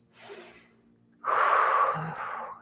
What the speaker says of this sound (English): breathe into that rib cage.